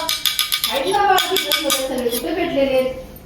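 Rapid metallic clinks of a spoon against dishes at the start, followed by steady scraping and clattering under ongoing talk.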